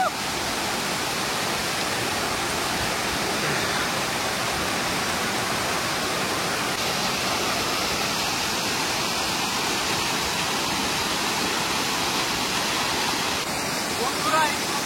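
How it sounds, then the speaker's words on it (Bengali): Bhodbhodi waterfall in Purulia pours in a steady, broad rushing roar, close and unbroken, with faint voices barely surfacing above the water. "এই মুহূর্তে আমি দাঁড়িয়ে আছি ভদভদি ফলসের সামনে"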